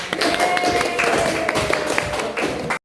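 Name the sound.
class applauding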